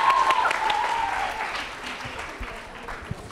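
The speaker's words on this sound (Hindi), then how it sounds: "तालियां जोरों से बजाइए" Audience applause at a girls' teacher-training college quiz show and anniversary event in Jaipur, a steady sustained clapping from a crowd that gradually eases off.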